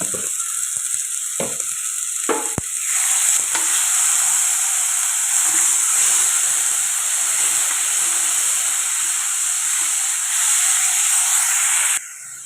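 Tomato paste fries in a pan for an egg curry, giving a loud, steady sizzle and hiss throughout, with a few light stirring clicks at the start and no voices.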